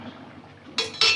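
A metal lid comes off a pot of fish curry cooked with kohlrabi in a village kitchen, with two sharp metallic clinks near the end after a quiet, low background.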